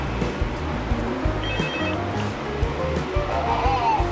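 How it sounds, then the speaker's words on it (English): In the office of the Five Nights at Freddy's video game, a telephone rings faintly beneath a steady, rumbling background hum. "Okay, Phone Guy's on phone"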